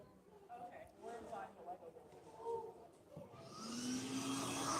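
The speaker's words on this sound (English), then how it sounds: "is the vacuum like suction loud for you?" A vacuum's suction rises to a steady loud whoosh late in the clip, with murmured talk and clattering in a busy hall at a LEGO convention before it.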